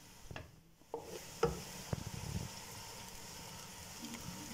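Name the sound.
onions frying until golden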